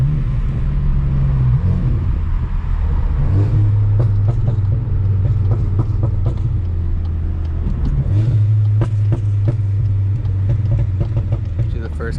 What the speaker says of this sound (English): I'm gonna try to do some nice rev match for you guys.